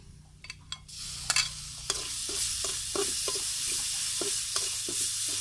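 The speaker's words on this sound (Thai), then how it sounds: "เจียวกระเทียมให้ เหลืองๆหอมๆครับ" Garlic frying in hot oil until golden: a few sharp clinks, then a sudden broad sizzle as it hits the oil, settling into a steady hiss with intermittent stirring taps.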